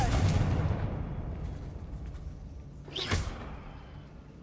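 Confringo fire-blast spell exploding in Hogwarts Legacy: a booming burst at the start fades into a rumbling tail, followed by a second sharp whooshing crack near the end, fairly loud.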